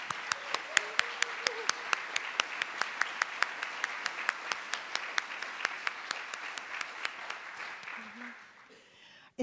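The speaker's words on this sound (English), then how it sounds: "I think we should applaud Emil because he's the person who made it hap" Audience at a symposium on the Rite of Spring centenary gives a steady round of applause, many distinct claps in a continuous wash that gradually thins and fades out near the end.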